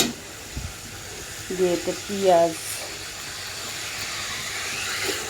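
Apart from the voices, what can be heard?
onions added to hot fish-frying oil, sizzling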